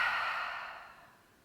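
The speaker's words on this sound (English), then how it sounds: "Breathe in and breathe out." A single long exhale during a Pilates exercise, a soft airy breath that fades steadily over about a second and a half, close and alone.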